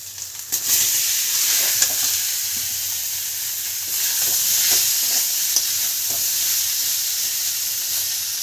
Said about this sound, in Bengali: মশলাটা কষা হয়ে গেছে, আলু গোটা দিয়ে দেবেন